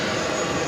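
A Cathay Pacific Boeing 777-300ER taking off at JFK, a brief, dense and steady jet engine roar heard up close, with no talk.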